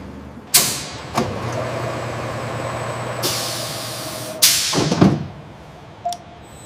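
Routemaster double-decker London bus at a factory brake test, with sharp air-brake hisses and releases at intervals over a steady low engine hum, fairly close and loud.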